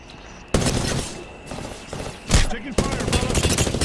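Rapid bursts of automatic gunfire in the battle royale game Apex Legends, including Prowler fire, crackle loudly and continuously with a heavy boom midway, partly under faint talk.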